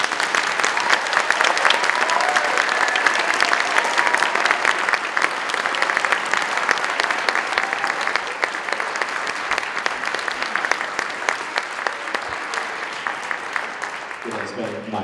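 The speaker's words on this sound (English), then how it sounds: "Now you can give a round of applause." Sustained audience applause at a spring school instrumental concert, loud and dense clapping from a crowd that carries on steadily for many seconds before tapering off.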